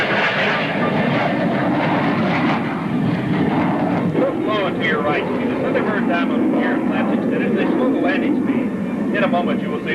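USAF Thunderbirds jets roar at the 1986 Texas Air Expo in Waco as the opposing solo begins an overtake run on the diamond formation, a loud continuous jet rumble under an announcer's voice over the loudspeaker.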